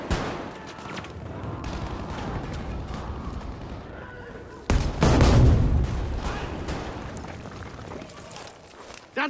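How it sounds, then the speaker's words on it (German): In a Battlefield V team deathmatch on the Underground map, a grenade goes off with a loud, close boom midway through, amid ongoing gunfire and shouting voices. "Granate für Sie!"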